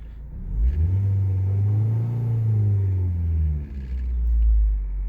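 A stock car engine with an automatic transmission rumbles steadily at close range, its low drone rising and falling slightly, with no voices.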